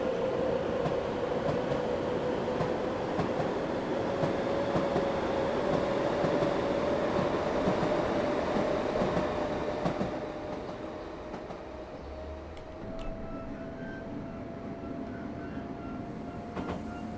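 A Class 465 EMU electric train running in Train Simulator gives a steady, loud rumble of wheels and traction with a rising whine of the electric motors. The drone eases slightly partway through and continues without any voices.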